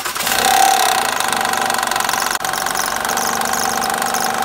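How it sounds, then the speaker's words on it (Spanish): A 2007 Honda Odyssey 3.5 engine runs steadily up close with a noisy timing belt tensioner, a continuous mechanical whir with a fast rattling, knocking texture and a brief dropout midway. "El tensor, el que ocasiona el ruido."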